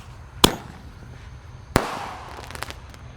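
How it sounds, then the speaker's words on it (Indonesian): A Sonic Boom mini launcher firecracker goes off inside a tin can, giving two sharp, loud bangs about a second apart, with metallic ringing and crackling pops trailing after the second. "Dan di sini bonusnya Sonic Boom pelontar mini guys. Kita masukkan ke dalam. Langsung kita nyalakan ya."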